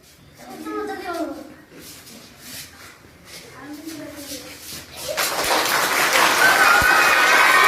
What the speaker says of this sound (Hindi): सब तालियां पीटने लगे